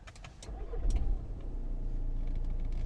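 A 2014 VW Tiguan 2.0 TDI diesel with automatic gearbox is started by push button, a short starter crank and clicks leading into a steady close diesel idle, with no voices.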